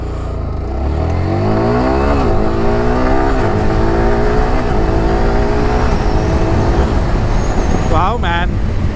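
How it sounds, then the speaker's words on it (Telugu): A Yamaha R15M motorcycle accelerates hard with quick-shifter upshifts, its loud, close engine note climbing in pitch and dipping at each of several clean gear changes, with a higher whine near the end. "వావ్ మ్యాన్, క్విక్ షిఫ్టర్ చాలా బాగా వర్క్ చేస్తుంది."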